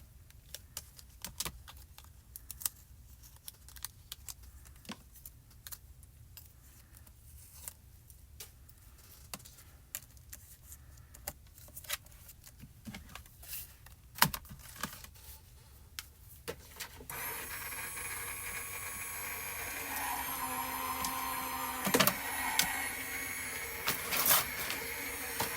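A die cutting machine cuts paper hearts, starting with scattered ticks and clicks over a faint hum, then a louder steady mechanical whirring and grinding rolls in for the last several seconds.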